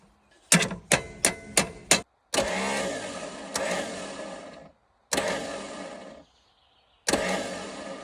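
A Lada 21.07's starter motor gives five short, sharp clicking bursts in quick succession, then several longer grinding cranking runs separated by brief pauses, close and fairly loud without the engine catching.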